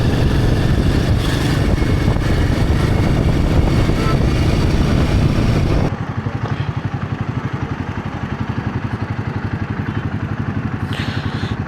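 A motorcycle engine runs steadily and loudly close by, with a rough throbbing note. Partway through, the sound drops to a thinner, pulsing rumble as the bike rides along the road.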